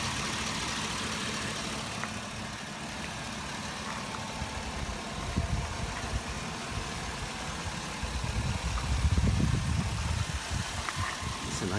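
Mini truck with a 4.8 liter engine idling quietly, a steady low hum and rumble that holds even throughout, with slight swells in the low end near the end.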